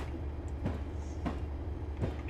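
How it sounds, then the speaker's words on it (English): Locomotive in the Railworks train simulator game running steadily, a continuous low rumble with soft rhythmic wheel clicks at intervals, moderately loud with no talk. "Alright, full speed ahead."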